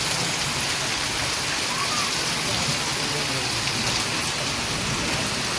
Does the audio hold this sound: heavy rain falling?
yes